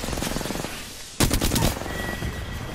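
Rapid bursts of gunfire in the battle-royale shooter Apex Legends, a dense volley that pauses briefly and then resumes with sharper, louder shots, sounding close and with no talk over it.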